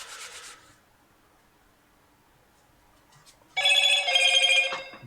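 A telephone rings in a quiet room, one short electronic ring burst at the start and a louder, longer ringing burst near the end, separated by near silence.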